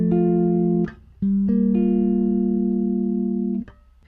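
Two sustained bass guitar chords ring out in a higher register, the first cut short after under a second, the second held for about two seconds.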